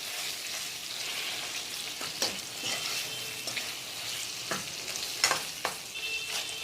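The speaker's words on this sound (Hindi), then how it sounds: "अब हम इस पे डाल देंगे अरबी जो हमने स्लाइसेस में काटी है और इसको हम मिक्स कर देंगे।" Sliced taro (arbi) sizzles in hot oil in a pan while being stirred, a continuous frying hiss broken by several sharp scraping knocks from the spoon.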